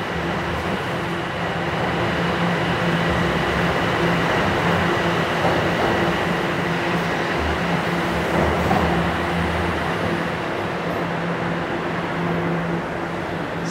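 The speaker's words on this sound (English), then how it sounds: "it looks like the northbound train is rolling in right now" An empty out-of-service northbound Toronto subway train rumbles steadily into a station, a long continuous roar of wheels and motors with a low hum underneath.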